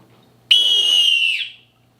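A single loud, piercing whistle made by a person, held steady for about a second before tapering off, standing alone against a quiet background.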